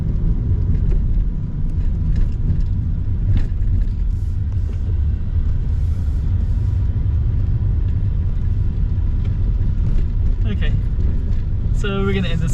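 Steady interior road rumble of a car driving along Tireman Avenue in Detroit, a continuous low drone with faint ticks and clicks near the end, no talking.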